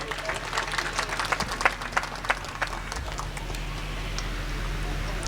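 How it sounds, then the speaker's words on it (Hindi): A crowd at an evening unity gathering claps to welcome a Uttar Pradesh cabinet minister, fairly distant and soft, with scattered individual claps over a low steady hum. "पुरजोर तालियों से इस्तकबाल"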